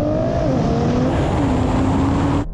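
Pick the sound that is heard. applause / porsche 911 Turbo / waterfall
porsche 911 Turbo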